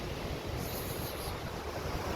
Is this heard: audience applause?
no